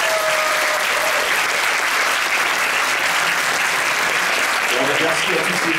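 Loud, continuous audience applause greets the guests at the Monaco Magic 2023 opening ceremony, a thick wash of clapping filling the whole stretch with no pause.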